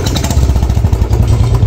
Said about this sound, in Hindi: बैठ के अभी स्टार्ट करते हैं बाइक को